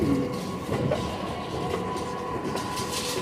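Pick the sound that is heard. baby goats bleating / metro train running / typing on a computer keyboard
metro train running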